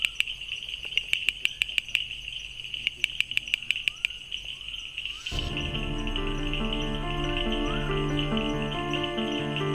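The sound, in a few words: male bush frog calling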